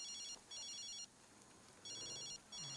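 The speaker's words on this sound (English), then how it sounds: "And now his phone's ringing." A mobile phone rings in the video game The Sims 3, a faint electronic trilling ringtone in repeated bursts with short gaps between them.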